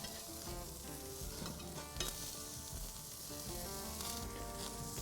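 Burgers and onions sizzle loudly and steadily on a grill, a dense close hiss with occasional crackles and a sharp clank around the middle.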